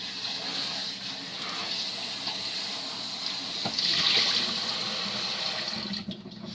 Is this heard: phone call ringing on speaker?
no